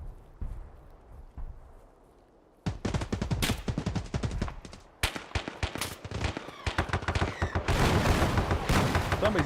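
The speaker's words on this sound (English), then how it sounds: "I know what I landed the mortar strike on" Mortar strike explosions in Escape From Tarkov: after a quiet start, a sudden barrage of rapid, loud, close blasts and rattling impacts erupts and keeps building in density to the end.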